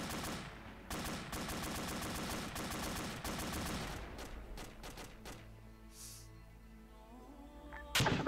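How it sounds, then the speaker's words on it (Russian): A ZU-23 anti-aircraft gun in Arma 2 fires rapid automatic bursts, sharp repeated bangs in a fast rhythm, followed by quieter scattered shots and a final loud report. "ПНД тоже Зушка стреляет."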